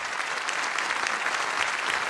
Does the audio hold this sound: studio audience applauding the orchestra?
yes